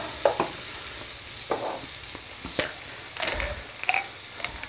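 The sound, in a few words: onions and mushrooms frying in pan for beef stroganoff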